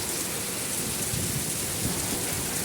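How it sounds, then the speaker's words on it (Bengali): Heavy hail and rain pour down in Mirpur 1, Dhaka, drumming steadily and densely on surfaces, with pellets spilling into a factory; a loud, continuous roar without any voices. "অনেক বড় বড় শিলাবৃষ্টি হচ্ছে।"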